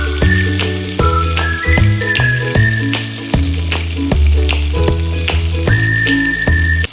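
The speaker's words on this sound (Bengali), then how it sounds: "লাল লাল করে ভেজে নেব।" Katla fish pieces fry in oil in a pan, making a steady sizzle beneath a melodic music track that plays over it.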